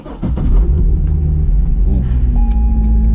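A Corvette C6 Z06 engine cranks and fires into a deep, loud rumbling idle right up close, settling into a steady throb after the start, with no talking.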